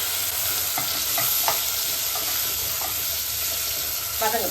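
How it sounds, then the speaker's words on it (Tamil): Onions and tomatoes sauté in oil for a Sankara fish curry in a clay pot, a continuous close sizzle broken by several scraping stirs of a spoon, with a louder rattling stir near the end. "இந்த நேரத்தில் நம்ம தக்காளி போட்டுக்கலாம். இப்போ தக்காளியும் நல்லா வதங்கணும்."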